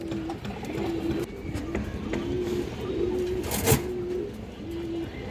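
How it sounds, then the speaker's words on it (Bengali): A large Indian Highflyer Kaldom female pigeon coos in repeated low, steady notes at close range, with soft background rustle and a brief sharp knock near the end. "খুবই সুন্দর একটা কালদম মাদি কবুতর, অনেক বড় সাইজের একটা কালদম মাদি"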